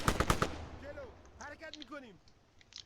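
Gunfire exchanged in Arma 3 during a NATO versus AAF PvP battle: a quick burst of several loud shots up front, then scattered distant reports with voices talking over the exchange.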